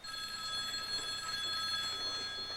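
A telephone bell rings in an office setting, a sustained bright jangling that holds steady throughout, fairly close, with no talking over it.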